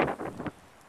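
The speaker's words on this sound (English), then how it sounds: "You can see the wind is picking the snow up and moving it." Wind gusting through a February blizzard, sweeping and lifting snow, heard as a few close, rough microphone-buffeting bursts over about half a second before easing to a low steady rush.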